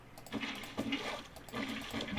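Water placed and flowing into a waterfall in the Minecraft video game, soft splashing and trickling in repeated faint pulses.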